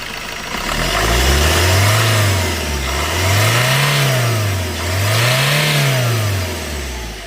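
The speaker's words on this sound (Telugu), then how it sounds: "ఒకసారి కార్ ఇంజిన్ సైడ్ కూడా మనకి ఏమన్నా బ్యాక్ కంప్రెసర్ వస్తుందేమో చూపిస్తాను" Diesel engine of a 2018 Suzuki S-Cross, revved three times in a row. Each rise is a smooth swell to a loud roar that sinks back toward idle. It is close, with no talking.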